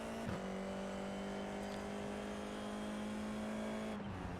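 A 2-litre, 160-horsepower race car engine in the iRacing simulator holds a steady, loud drone at near-constant revs. The pitch shifts briefly at the start and again near the end, with no talk over it.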